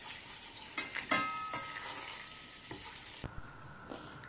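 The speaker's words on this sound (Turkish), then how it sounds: "karıştıralım." Butter and dried mint are stirred in a frying pan, with a soft sizzle under crisp clinks and scrapes of a utensil against the metal, a few sharp knocks at irregular intervals, close and without voices.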